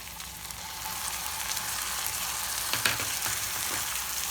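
Onion with a ginger, garlic, green chili and coriander paste sizzles steadily in a pan for a liver and gizzard fry, a constant hiss broken by a few soft stirring scrapes near the end.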